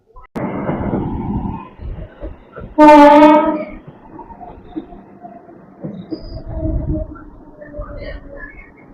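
The Amrit Bharat Express, train 16598, rolls on after Dankuni Junction toward Andul, with a steady rumble of wagons and a single loud, sustained horn blast midway, while a voice talks faintly nearby.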